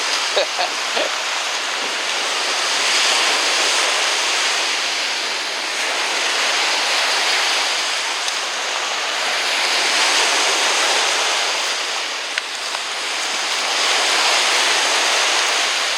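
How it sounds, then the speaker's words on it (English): Waves breaking steadily on a lake beach, a continuous loud wash of surf that swells and recedes in slow surges, heard alone without talk. "Running from waves."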